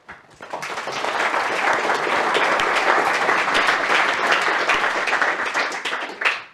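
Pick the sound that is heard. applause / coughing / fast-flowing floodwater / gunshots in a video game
applause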